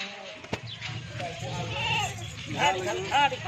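Goats and young kids bleat repeatedly at close range on a farm, several overlapping wavering calls, with someone talking throughout.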